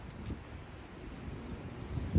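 Low, steady wind rumble buffeting the microphone, with gusts swelling near the end.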